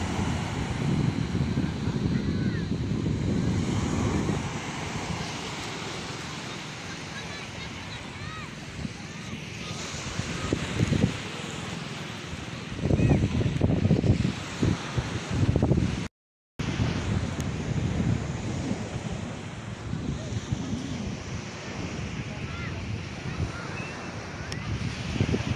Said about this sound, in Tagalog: Matining yung dagat hapon. Naka-low tide siya.